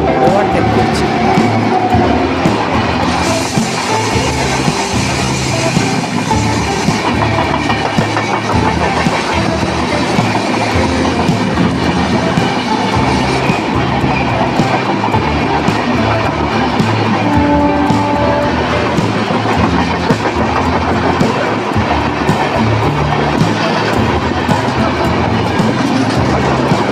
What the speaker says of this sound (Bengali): শুনবেন বন্ধুরা, 12383 নিউ দিল্লি হাওড়া পূর্বা এক্সপ্রেস আমাদের ট্রেনকে ওভারটেক করছে।